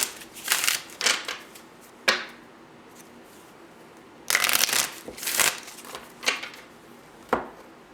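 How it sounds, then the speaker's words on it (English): Tarot cards are shuffled in bursts of crisp riffling and slapping, several quick rounds separated by short pauses, loud and close with no talking. "2 more shuffles."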